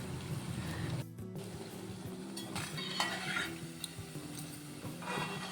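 Moong dal vadas fry in oil with a close, steady bubbling sizzle, punctuated by utensil scrapes and clinks as they are turned, a short louder clatter near the start, no speech.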